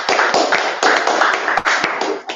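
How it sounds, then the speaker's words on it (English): An audience at a workplace learning lunch claps together, a dense run of overlapping hand claps in short bursts, loud and close. "So we'll do the hand clap"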